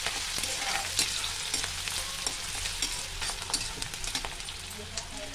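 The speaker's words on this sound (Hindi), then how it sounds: "तो जब चिटकने से पहले ही इसमें डाल देंगे बारीक कटा हुआ प्याज।" Finely chopped onion fries in hot oil for poha chivda, a steady close sizzle with soft crackles and occasional stirring clicks throughout, no one talking.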